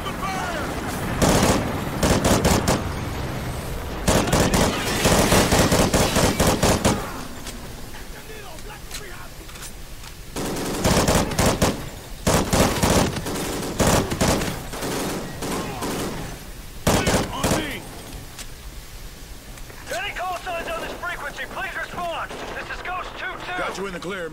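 Gunfire in a Call of Duty Ghosts firefight, with repeated loud bursts of automatic weapons and heavy shots separated by short pauses and mixed with shouted voices and combat sounds.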